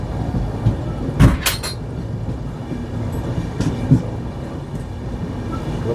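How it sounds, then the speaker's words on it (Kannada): A passenger train on the Pandharpur to Bengaluru route pulls into Gadag Junction, its steady rumble broken by a few sharp clanks and rattles of the carriages, loud and close, with no talk. "ಕರೆಕ್ಟಾಗಿ 9:53ಕ್ಕೆ ನಮ್ಮ ಟ್ರೈನು ಗದಗ್ ಜಂಕ್ಷನಲ್ಲಿ ಬಂದು ನಿಂತಿದೆ."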